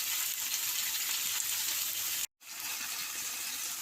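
Chicken tikka skewers fry in a pan over a medium-low flame, giving a soft, steady sizzle that cuts out briefly for a split second before resuming.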